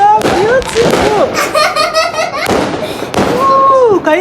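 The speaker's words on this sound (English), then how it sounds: "can you see the fireworks?" Fireworks burst overhead in rapid succession, sharp bangs and crackling whistles repeating several times, loud and close, while people exclaim and laugh in delight throughout.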